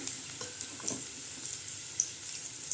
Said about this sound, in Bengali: পেঁয়াজ আর রসুনটা লাল লাল করে ভেজে নেব। তোমার পেঁয়াজগুলো ভাজা হয়ে গেছে